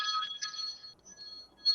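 An electronic mobile phone ringtone chimes in short melodic bursts, fairly close and clear, with no one speaking over it.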